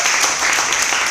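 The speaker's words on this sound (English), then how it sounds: "please give a loud round of applause for Skria" Loud, steady applause fills a startup demo day stage in Singapore as the first pitch team, Skria, is called up, a brief wash of clapping with no gaps.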